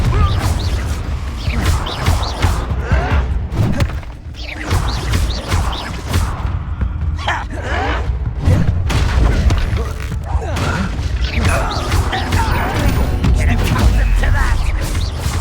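Confringo blasting-curse explosions in Hogwarts Legacy hit as repeated sharp booms and crashes amid dense combat noise, loud and frequent across the stretch, with a voiced spell incantation and battle chatter mixed in.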